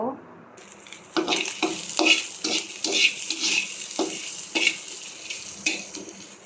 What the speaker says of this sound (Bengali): এখানে সব কিছু দিয়ে শাকটা ভাজতে দিয়ে দিলাম